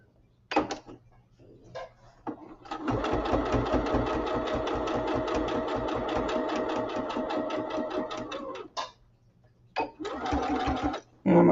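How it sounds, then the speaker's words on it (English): A sewing machine stitches fabric in short starts and then one long steady run of fast, close mechanical needle clatter lasting several seconds, with brief quiet pauses between bursts. "we're just going to sew down here"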